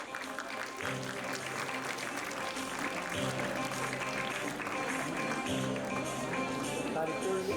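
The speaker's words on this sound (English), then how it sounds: "May we have a huge round of applause." Applause from a large audience at a prosthodontics department event as postgraduate students are called up, a steady dense clapping that fills the whole stretch at a constant level with music and voices mixed underneath.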